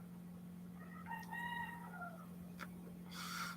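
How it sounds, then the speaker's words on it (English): A rooster crows at 3 a.m., clear mid-distance cock-a-doodle-doo against a steady low electrical hum, followed by a brief click and a short burst of noise. "Yeah, like the roosters are cool, but it's the wrong time to be doing all that shit."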